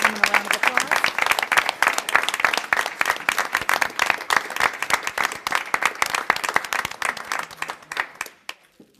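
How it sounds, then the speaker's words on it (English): Ladies and gentlemen are applauded at a school board of education legislative meeting, the crowd clapping loudly in a steady, dense stream of hand claps that thins out and stops near the end. "if we could please give these fine ladies and gentlemen a round of applause"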